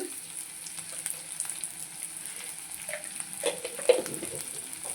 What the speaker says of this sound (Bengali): এটা ভেজে নেব এর সঙ্গে দিয়ে দেবো দুটো কাঁচা পাকা লঙ্কা দিয়ে দেবো স্বাদ মতো নুন